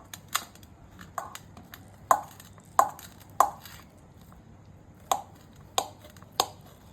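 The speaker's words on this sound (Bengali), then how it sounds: "তোমরা চিকেনটা আমি কেটে নিচ্ছি।" A knife chops through a whole chicken on a board in sharp, separate thuds, about nine in all, with uneven gaps between them and no talk.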